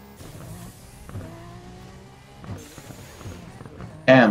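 A car drives through an auto repair shop in the video game Burnout Paradise, giving a steady engine hum with shifting tones and short revs, ending in a sudden loud hissing burst.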